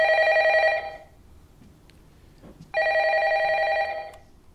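A telephone bell rings in two long bursts with a short pause between them, loud and clear against a quiet background.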